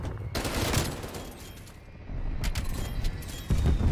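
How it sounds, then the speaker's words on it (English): Strafe run gunfire in the Black Ops Cold War multiplayer game: a dense, continuous barrage of rapid shots and booms rolls on throughout, loud and sustained. "strafe run is still going crazy"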